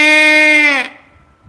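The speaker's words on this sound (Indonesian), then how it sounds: "Nah, itulah kerbau, suara kerbau" A single drawn-out, tonal call from a water buffalo, loud and close, holding steady for nearly a second before breaking off into quiet.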